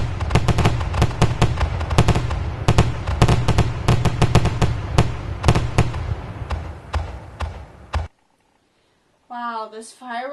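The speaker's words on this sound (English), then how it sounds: "Wow, those fireworks were so cray." A rapid barrage of fireworks bangs and crackles, loud and dense for several seconds, then stops abruptly; after a brief silence, a voice speaks.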